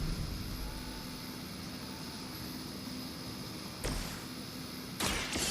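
A helicopter in the video game Marvel's Midnight Suns, a steady broadband rotor and engine drone throughout with two brief louder bursts near the end, no speech.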